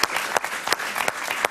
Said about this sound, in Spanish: Un gran aplauso para ella.